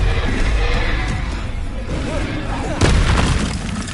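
A Bombarda blasting spell explodes in Hogwarts Legacy, one heavy booming burst after a rumbling buildup, loud and close, with a voice talking around it.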